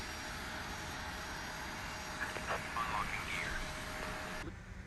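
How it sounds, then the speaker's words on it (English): The left jet engine of a CRJ starting in a flight simulator gives a steady broad whine and rumble, with faint chirpy cockpit or radio sounds briefly rising in the middle before the noise cuts off near the end. "stable start on the right-hand side, starting left engine."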